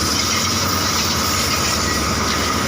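A steady, loud roar of a Thai express train's wheels running over rails, heard close up, with a continuous metallic rumble and no talking.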